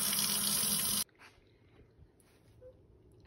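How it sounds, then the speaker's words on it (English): Warm water runs loudly from a tap into a sink for rinsing, a steady rushing pour that cuts off abruptly after about a second, leaving quiet room tone with faint clinks. "The water is drained, warm water is flowing."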